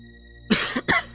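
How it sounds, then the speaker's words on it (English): A person coughs twice in quick succession during a game stream, close and fairly loud, with a short gap between the harsh bursts over a faint steady background hum. "Sorry for the coughs"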